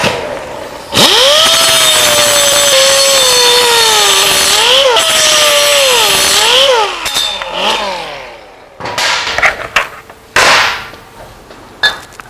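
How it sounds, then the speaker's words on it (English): A power tool deburrs the cut end of 1 3/8 inch exhaust tubing, starting with a loud high whine that shifts in pitch under load, then dies away into scattered clanks and handling noises. "I'm going to deburr this a little bit"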